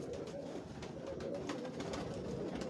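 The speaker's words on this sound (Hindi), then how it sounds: "मेरी एक ब्रीड है जिनको हम टाइगर कबूतर कहते हैं" Tiger pigeons, a dewlapped breed, keep up a low, steady burble of cooing on a Lahore rooftop, a dense close chorus with no talk over it.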